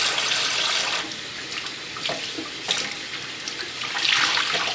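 Tap water runs steadily into a stoppered sink while clothing is rinsed under the stream by hand, with splashy surges and swells in the flow and no talking.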